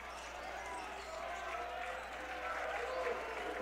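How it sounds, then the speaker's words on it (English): A college basketball crowd at a NACC quarterfinal between CUC and Edgewood builds into a steady background roar and scattered clapping, moderately distant, under continuous play-by-play commentary. "The crowd starting to get into it."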